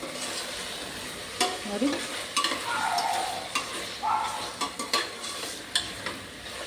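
Aloo matar pulao sizzling in a pan while a spoon stirs it, with scraping and clinking strokes over continuous frying hiss; a voice speaks one brief word.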